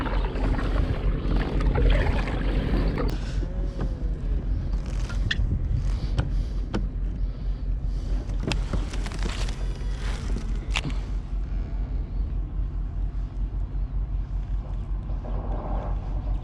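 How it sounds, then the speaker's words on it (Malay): Steady wind rushes and buffets across the water during kayak fishing among reeds and bamboo, a continuous broadband roar close to the boat, broken by a few sharp knocks and splashes. "Angin makin kuat pula ni."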